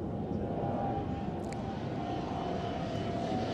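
An airplane flies over near Roissy airport, a steady low droning rumble that persists throughout at moderate distance, with a faint brief high chirp partway through.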